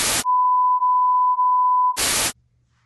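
Phone alert beep: a single steady electronic tone held for about two seconds, loud and clean, framed by short bursts of hiss before and after, with no talking.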